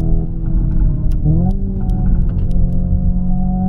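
A Hyundai IONIQ 5 N electric car driving with simulated engine sound, a loud steady synthetic engine drone that dips and jumps in pitch at a gear change partway through, heard from inside the cabin.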